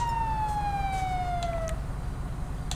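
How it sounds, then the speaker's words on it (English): A police siren in GTA 5 wails with a single falling tone that fades out, over a steady low engine-like hum, no talking. "Your sirens were on."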